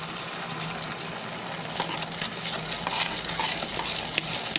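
Thick lentil paste for dal is stirred in a pot with a soft, continuous scraping and gentle bubbling, amid a steady background hiss.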